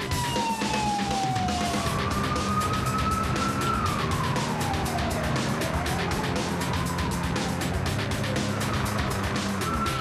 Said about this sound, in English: After nearly 2 weeks with no fire calls, Engine 37 and Ladder 26 raced to a reported fire.